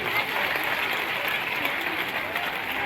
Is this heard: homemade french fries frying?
no